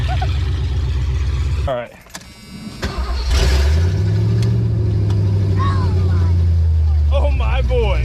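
Ford Fox Body Mustang 5.0 V8 with open long tube headers, a loud steady exhaust drone that drops briefly then swells into a deeper rising rumble, with a short spoken remark near the start.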